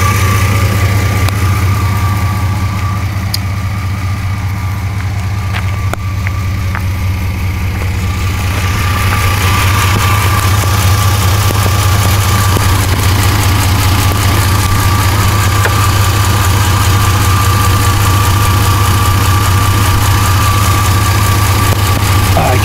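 The Vortec V6 engine of a 1994 GMC Sierra 1500 pickup runs steadily, a loud close idle with a strong low rumble that gets slightly busier partway through.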